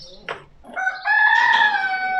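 A rooster crows in a farm yard where chickens live, a loud close cock-a-doodle-doo rising after a brief cluck or two, with no speech.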